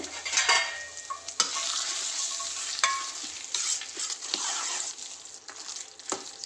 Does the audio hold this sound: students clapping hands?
no